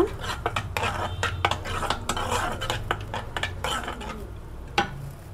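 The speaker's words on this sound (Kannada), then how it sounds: "ಇದಿಷ್ಟು ಚೆನ್ನಾಗಿ ಮಿಕ್ಸ್ ಮಾಡ್ಕೋಬೇಕು" A spoon stirs turmeric into gravy in a pan, producing close, irregular scraping and clinking strokes against the metal with a soft sizzle underneath.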